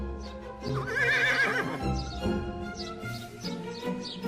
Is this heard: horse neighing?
yes